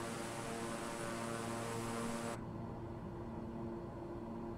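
Steady, broad propeller-aircraft drone in Microsoft Flight Simulator, flying over Japan, heard continuously at even loudness; the high hiss drops away midway, leaving a lower, duller engine hum.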